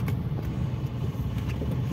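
Congested road traffic below a flyover on a narrow stretch near construction, with a steady low rumble of car engines idling and creeping close by, no voices.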